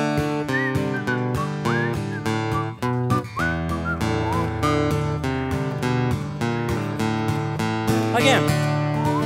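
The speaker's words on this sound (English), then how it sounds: "One of the greatest whistling songs in all of American history" A melodic whistled tune over a full band accompaniment, bright and prominent, with sliding pitches and a short flourish near the end.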